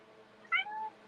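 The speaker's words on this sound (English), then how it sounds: "What are you meowing about?" A house cat lets out one short, clear meow close by against a quiet room background, with no talking.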